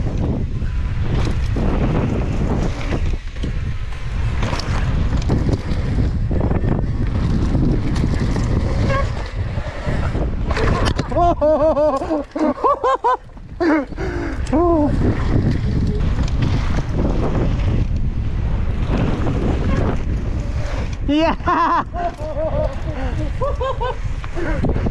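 Heavy wind buffets the microphone at a mountain bike park, a loud, continuous low rumble throughout, with brief tonal whistling bursts partway through.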